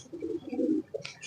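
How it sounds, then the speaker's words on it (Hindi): A pigeon gives a short, soft coo, close by, with a brief rustle or chirp at the end. "ये हमारे कबूतर हैं जी"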